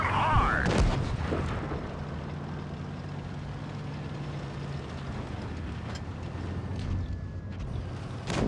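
A heavy tank cannon shot booms early in a tank battle game featuring a T-54 and an E 50, followed by a long rumbling engine drone and faint later impacts.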